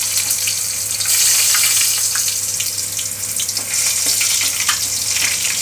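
Yam pieces sizzling and crackling in hot oil, a steady bright hiss with little pops throughout, close and fairly loud, no talking.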